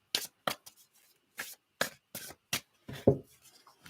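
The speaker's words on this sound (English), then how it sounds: "carry on shuffling, Aries." Tarot cards being shuffled by hand give short, crisp riffling bursts in an irregular rhythm, close and fairly quiet, with brief pauses between them.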